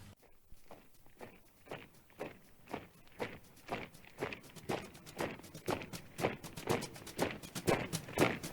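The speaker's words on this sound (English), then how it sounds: "Can you hear Australia's heroes marching?" Soldiers' marching footsteps, many close together in a steady, quickening rhythm, with crunchy, clattering impacts that grow louder as the troop approaches. No voices.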